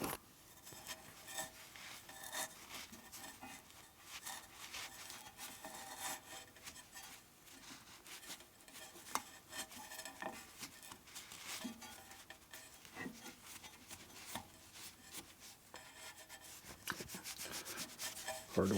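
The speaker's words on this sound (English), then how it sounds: "Now we do is we go in here and wipe off all this excess goop." Rag wiping excess gasket goop off a 1961 Harley-Davidson Sportster XLCH transmission during a rebuild, a soft continuous rubbing and scuffing with small clicks of metal parts, close and steady with no speech.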